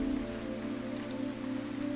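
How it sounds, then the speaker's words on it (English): Rain falling in the video game Fantasian: Neo Dimension, a steady close patter over a sustained low humming tone, heard without speech. "It was raining."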